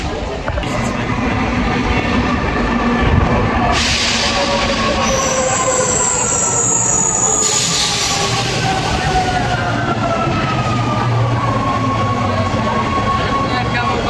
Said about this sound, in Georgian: ესეც რომის მეტრო.